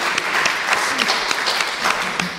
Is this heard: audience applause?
yes